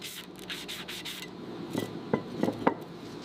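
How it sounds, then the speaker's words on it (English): A rusty metal wrench surface being sanded by hand: close, raspy rubbing strokes in a steady rhythm, with a few sharper scraping hits toward the end. "Then I sanded the surface to clean the metal."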